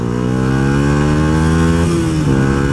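A Yamaha YZF R125 motorcycle engine, fitted with a new ECU tune, revs loud and close in one sustained, rising howl that dips and wavers near the end, with no voices.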